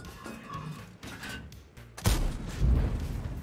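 A tank cannon fires in the video game World of Tanks, one loud booming blast partway through after quieter engine and battle noise, followed by a rumbling tail and a second heavy thud.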